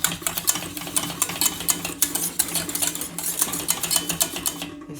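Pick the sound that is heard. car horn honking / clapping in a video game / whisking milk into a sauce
whisking milk into a sauce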